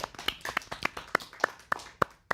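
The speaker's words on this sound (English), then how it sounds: "Quick round of applause for them." A small audience at a student TV live show gives a quick round of applause, about nine distinct, fairly faint claps in an uneven rhythm rather than a full crowd ovation.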